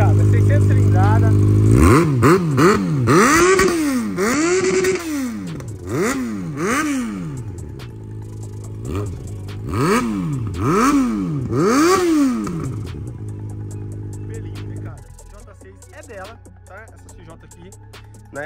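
Yamaha XJ6 600cc motorcycle engine idling and revving repeatedly in a garage, loud rising and falling revs in several bursts, settling to a steady idle near the end.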